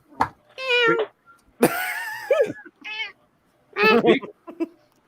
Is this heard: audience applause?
no